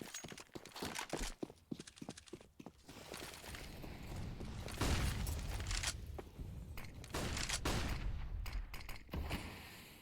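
Counter-Strike match gunfire crackles in rapid bursts and scattered single shots, layered with mechanical clicks and movement noise, fairly faint and busy throughout the stretch.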